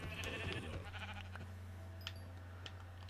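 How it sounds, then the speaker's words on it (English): A Minecraft sheep bleats in a few short, quiet calls over a steady low hum, with no talking. "if you kill sheep, you get food from sheep now too"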